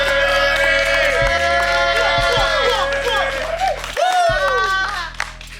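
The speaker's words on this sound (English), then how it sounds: "I had to clap a little more" Hand clapping blends into a busy mix of music and voices, with sharp claps cutting through a loud tonal backing alongside shouts and chatter.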